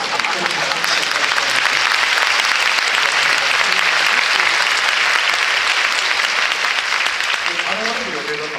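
A concert audience applauds a Ground Self-Defense Force military band, loud dense clapping that fills the hall steadily throughout before easing slightly at the end.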